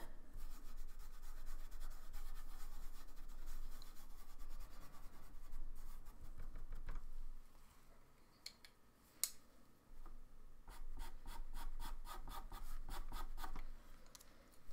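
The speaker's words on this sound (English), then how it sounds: "Blending this all out a bit." A pencil rubs and blends across paper while a white wolf is being drawn, a faint, close, continuous scratching with short rapid strokes toward the end.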